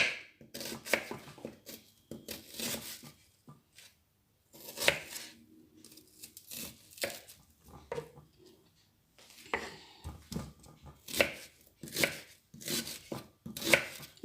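Knife chopping bell peppers (poivron) into pieces for Chinese noodles with shrimp, a steady run of crisp close cuts in quick bursts separated by short pauses, with no talking.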